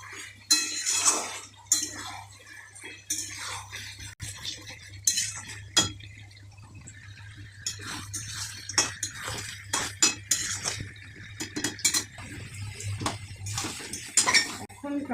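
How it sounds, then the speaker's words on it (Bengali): Mutton masala scraped and spooned from a wok into a pressure cooker, with repeated metal clanks and scrapes of utensils against pots in an irregular rhythm, fairly close, over a steady low hum. "এখন ট্রান্সফার করছি প্রেসার কুকারে।"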